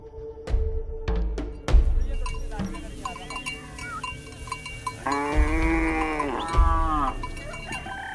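Cattle penned in a boma in lion country, several cows lowing with long deep moos, one prolonged call standing out close by, mixed with thumps and shuffling.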